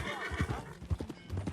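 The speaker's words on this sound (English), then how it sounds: "That a new horse?" Horse hooves clip-clop steadily in Red Dead Redemption 2, with a whinny or neigh mixed in, loud and close over faint background ambience.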